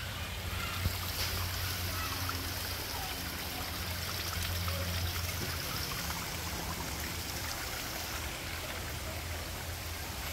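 Clear spring water runs at a covered source in Tecotrini, Ciudad Delgado, San Salvador, a soft continuous trickle and flow that stays even and fairly quiet throughout, with a faint background hum.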